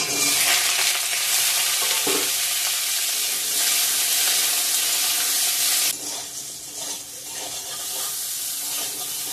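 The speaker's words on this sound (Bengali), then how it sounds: "বেগুনটা ভেজে নিচ্ছি।" Eggplant frying in oil in a home kitchen pan, a loud, dense sizzle with occasional stirring scrapes, close up, easing somewhat partway through.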